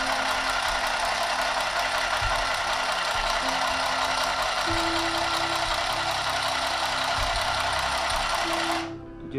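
A small Akiara handheld sewing machine stitches through four layers of folded cloth, a loud, constant buzzing motor drone with a fast mechanical rattle, continuous and close, cutting off abruptly at the end.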